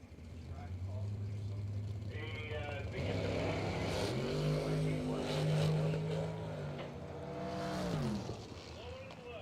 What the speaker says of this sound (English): Nick Pearson, left lane, going to dial 664 in a Jeep. Going to take on Tommy Zimmerman in a Camaro, dial 539.